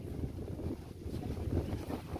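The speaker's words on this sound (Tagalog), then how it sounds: "Grabe yung hangin mga kaibigan" Strong wind buffets the microphone outdoors, a continuous low rumbling roar that gusts up and down without any speech.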